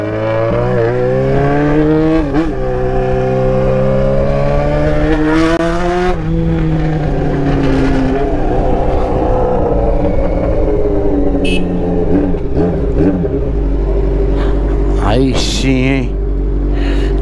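A Honda CBX 750 Four with a full 4-into-1 stainless steel exhaust of 2.5 inches revs up and down close by, its engine note rising and falling repeatedly in a loud, sustained roar, with voices over it.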